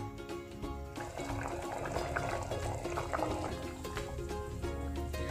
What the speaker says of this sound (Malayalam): അപ്പം ഇതൊന്ന് തിളച്ച് വരട്ടെ.